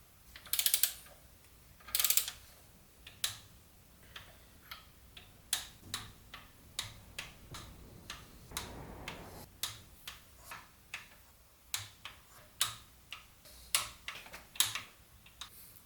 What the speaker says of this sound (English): So I'm going to take my torque wrench and set it to 20.